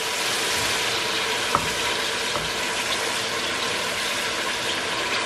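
Masala frying over low heat in a pressure cooker while making nihari gives a steady, close, continuous sizzle with a few soft clinks of stirring, and no voices.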